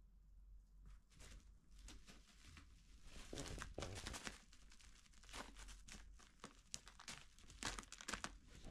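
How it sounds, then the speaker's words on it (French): Two cats, Smoky and Cosmo, crinkling and tearing paper in a bedroom, irregular dry rustles and crackles bunching into busier bursts, close but quiet. "Vous faites un peu trop de bruit avec ce papier."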